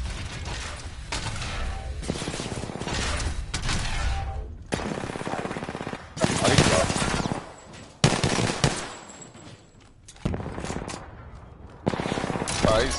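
Rapid automatic gunfire in Apex Legends, long close bursts with short pauses and mechanical clatter between them, loud and harsh.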